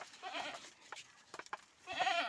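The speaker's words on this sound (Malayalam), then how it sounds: "ആടുകൾക്കുണ്ടാവല്ലോ ആടുകളായ ഭാഷകൾ." Goats bleat in a few bursts, loud at the start and again at the end, with softer rustling and small knocks between calls.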